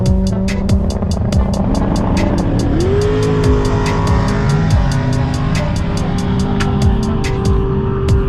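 A high-revving Subaru WRX with a Stage 1 tune and more boost screams through repeated gear changes on a race track, pitch climbing and dropping as it accelerates hard, loud and close, with rapid clicking throughout.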